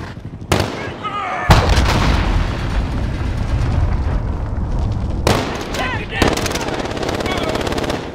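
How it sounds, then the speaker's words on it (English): Cruise missile explosion in Modern Warfare multiplayer on PC, heavy booming blasts with dense rumbling gunfire and battle noise throughout, loud and sustained, with brief game voice announcements mixed in. "Enemy cruise missile incoming."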